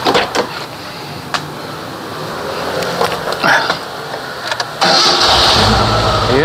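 A car's engine cranks after a distributor cap refit, with a few clicks and clunks before it catches on the first try and settles into a loud, steady run.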